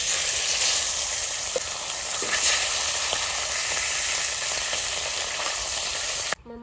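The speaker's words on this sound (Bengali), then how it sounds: "এভাবে এই মাছ কটাও ভেজে নেব।" Fish frying in hot oil in a wok gives a loud, steady sizzle and hiss that runs unbroken for several seconds, then cuts off abruptly near the end.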